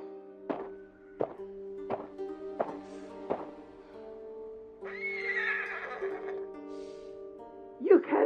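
A horse in the video game Ghost of Tsushima whinnies in a string of short, repeated neighs, then a longer, louder drawn-out whinny, with faint thuds of movement beneath.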